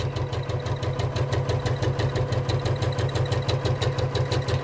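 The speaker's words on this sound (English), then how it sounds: "I'm sewing across the top area, making sure my needle's a quarter of an inch away, and sew down this bit" A sewing machine stitches across a fabric bag, its motor whirring steadily with a fast, even needle chatter, close and continuous with no talking.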